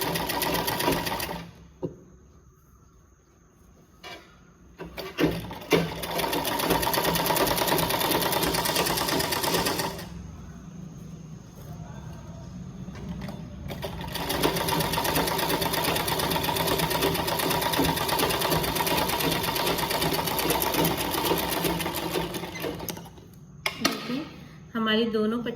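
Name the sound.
sewing machine stitching a blouse strip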